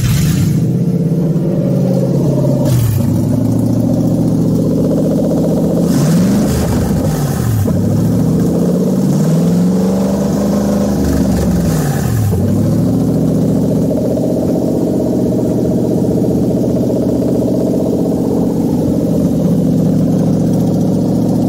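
A Toyota 1UZ-FE V8 swapped into a Nissan S13 runs steadily and loud. Several throttle blips swell and fall early on, then it settles into an even, rumbling idle.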